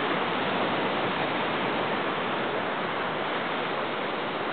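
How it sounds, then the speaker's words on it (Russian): Large ocean waves at Scarborough beach produce a dense, steady roar of surf, loud and unbroken throughout with no talking. "Тут, как всегда, большие волны"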